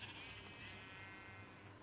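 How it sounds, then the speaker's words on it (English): Several sheep in a crafting and building video game bleat faintly in quick succession, with a soft background drone and no talking. "these three sheep follow me"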